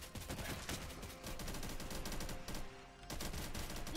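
Rapid, dense gunfire rattles without pause in a zombie survival shooter game, loud and continuous over a busy background, with a brief dip before the shooting resumes.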